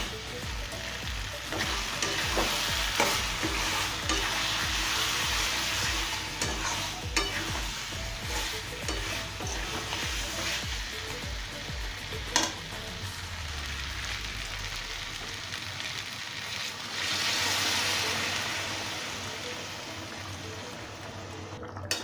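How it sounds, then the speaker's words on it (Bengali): Fried potatoes and pointed gourd being stirred into spices in a pan, a steady sizzle under repeated scraping and stirring strokes that ease off partway through, then a louder hissing burst near the end; no talking. "ভেজে রাখা আলু পটলগুলো আমি মশলায় মিশিয়ে নেব"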